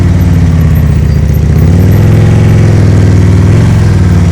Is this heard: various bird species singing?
no